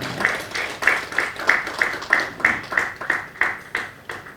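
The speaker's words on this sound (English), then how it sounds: "Jonathan, would you like to lead that applause for our sisters and brothers that are in already service?" At a launch event for children of soldiers held at Hotel Africana in Kampala, a small group claps in an even rhythm, about two claps per second, each clap distinct and moderately loud, in honour of serving soldiers.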